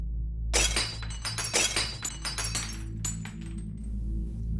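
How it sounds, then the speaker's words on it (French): Glass shatters and clatters in a burst of crashing, tinkling fragments, followed by a few scattered clinks as pieces settle. "brisant de nombreux objets et renversant plusieurs meubles."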